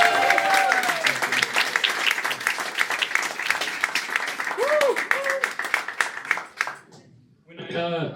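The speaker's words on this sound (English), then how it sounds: "let's give a round of applause to Dan Beaver." Audience applause for Dan Beaver at a stand-up comedy show, dense steady clapping from a large crowd lasting about seven seconds before fading, with a brief voice at the end.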